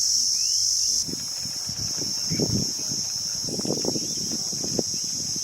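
A dense, continuous high-pitched drone of crickets chirping fills the background of a kitchen, with low knocking and faint movement sounds underneath.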